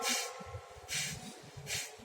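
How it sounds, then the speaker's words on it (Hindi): Forceful nasal exhalations during kapalbhati breathing, three sharp hissing puffs at a steady rhythm, close and fairly soft with no talk over them. "कपालभाति कैसे करनी है, श्वास को बाहर छोड़ना है"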